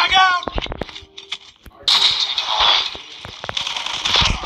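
A frag grenade goes off in the Call of Duty Mobile video game: a sudden loud blast midway, then a sustained rumbling, crackling tail, after a brief shouted voice at the start.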